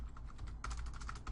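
Quiet, rapid typing on a computer keyboard, a short run of soft key clicks close by with no talk.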